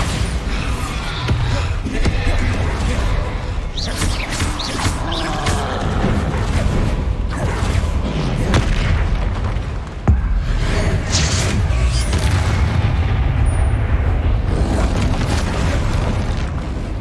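Repeated booming spell blasts from the Bombarda explosion spell in the video game Hogwarts Legacy, loud and dense over a busy combat soundscape, with a sharp burst near the middle and steady chaotic impacts throughout.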